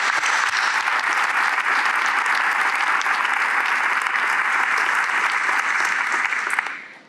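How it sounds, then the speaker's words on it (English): A large audience at a school graduation ceremony applauds for a teaching award winner, loud sustained clapping that fills the hall and then cuts off abruptly near the end. "Let's give him a round of applause."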